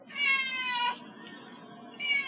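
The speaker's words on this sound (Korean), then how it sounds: "고양이가 야옹 울면" A cat meows twice, clear and fairly close, with a faint short mew between the two longer calls.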